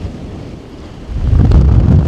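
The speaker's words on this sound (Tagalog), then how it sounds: "kasi malakas yung hangin" Strong wind roaring across an exposed Tatra mountain peak in Poland, buffeting the microphone with a steady low rumble that swells louder and gustier partway through, with no voices.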